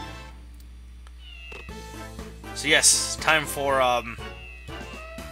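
Cartoonish cat meows from the WarioWare: Smooth Moves video game, several bright, pitched mews over a steady game music backing, with a person talking through the clip.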